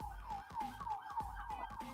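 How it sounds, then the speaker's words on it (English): An ambulance siren out in the street, a rapid wailing yelp that repeats several times in quick succession, heard faintly as if from a distance. "sirens outside. The ambulance comes down the street"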